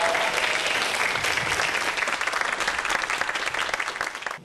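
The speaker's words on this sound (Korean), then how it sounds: "모두들 박수 치면서 교수님 감사합니다" An audience at a lecture on parasites by a parasitology professor breaks into sustained applause, a dense even wash of many hands clapping that tapers slightly toward the end.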